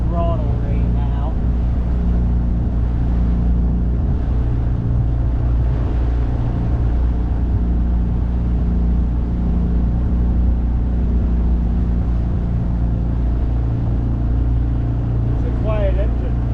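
A boat engine idles at fairly low throttle during a fleet gathering at Windjammer Days, a steady deep low rumble running throughout, with brief voices heard over it at the start and near the end.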